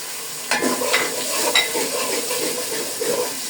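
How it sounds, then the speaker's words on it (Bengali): Spices, including ground nut paste with bay leaf, cinnamon, cloves and cardamom, frying and being stirred in a pan while cooking morog polao, giving a steady close sizzle with a few scraping stir sounds, no talking. "সেটা আমি পুরোটাই দিয়ে একটু হালকা ভেজে নেই।"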